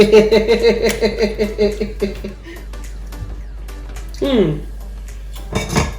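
A lid clanks and settles onto a metal pot of simmering vegan tofu vegetable stew, a few close metallic knocks and rattles with a faint ring, amid a person talking.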